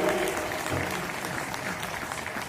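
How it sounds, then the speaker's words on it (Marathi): Audience applause at an election campaign rally in Akluj for a municipal council poll, a dense steady wash of clapping from a large crowd that holds at even loudness throughout. "मंडळी, जोरदार टाळ्या झाल्या पाहिजेत या पाठिंब्यासाठी."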